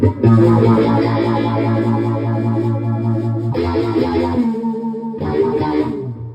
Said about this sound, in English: that's another sound you hear during our shows, is that phaser kicked in